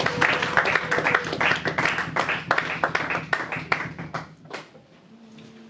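Congregation applauding during a church service, with dense, fairly loud clapping from many hands that thins out and stops near the end, leaving a faint hum.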